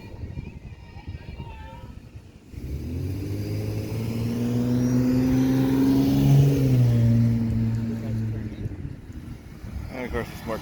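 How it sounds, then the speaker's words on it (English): A car passes on a town street outside a supermarket, its engine swelling from a distance to a loud, close rumble and then fading, with a person talking beforehand. "And of course, there's more cars."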